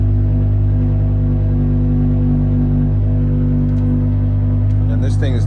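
A manual BMW M5 with a V10, left abandoned, idles loud and close with a steady, deep, even drone, and a few brief higher-pitched noises break in near the end.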